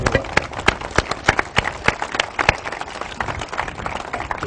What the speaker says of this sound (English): But let's give Walter a round of applause.